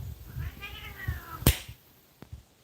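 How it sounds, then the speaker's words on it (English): Cats fight outdoors with a drawn-out wavering yowl, followed by a sharp spitting hiss and a brief scuffle near a generator repair, loud and close with no talk. "Cats out here fighting."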